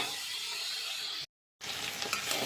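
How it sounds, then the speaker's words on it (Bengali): Boiled giant taro pieces turning in hot oil in a wok make a dense, continuous hiss broken by a brief total silence, then sizzling resumes with light stirring clatter; near, no speech. "এবারে টুকরো করে কেটে সেদ্ধ করেছিলাম মানকচুটা একটু তেলের উপরে আমি নেড়ে নিচ্ছি"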